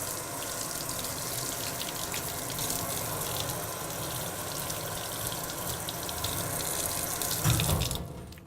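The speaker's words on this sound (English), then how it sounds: "we rinse our hands from 2 inches above the wrist down to the fingertips with our fingertips pointing down" Water runs steadily from a sink tap as hands are rinsed from wrist to fingertips, a constant close hiss and splatter that continues unbroken, then cuts off at the end.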